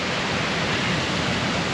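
A waterfall behind the Nora Mill Granary grist mill in Helen, Georgia, gives a loud, steady, close-up rushing roar with no break, filling the whole moment on a wet, gloomy day.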